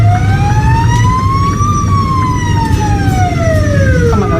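A Norwegian fire department emergency vehicle sounds its siren close by, a loud wailing tone sweeping up then down over engine rumble and road noise.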